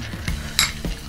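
A spoon stirs orange juice icing as powdered sugar is gradually worked in, giving a few soft scraping clinks against the bowl spaced across a short moment, close and fairly quiet.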